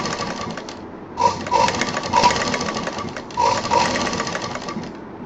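Sewing machine stitching two layers of fabric along an edge for a drawstring channel, running in bursts with short pauses between, close and steady, no talking.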